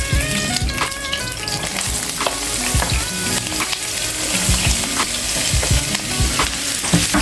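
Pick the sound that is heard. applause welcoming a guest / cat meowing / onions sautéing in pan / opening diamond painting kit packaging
onions sautéing in pan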